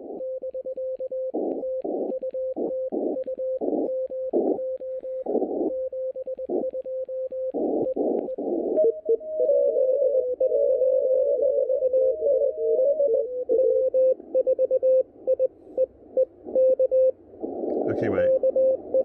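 Morse code CW signal received on an Elecraft KX3 amateur radio, a clear steady tone keyed in rhythmic dots and dashes, later joined by a second overlapping tone, with brief talk near the end.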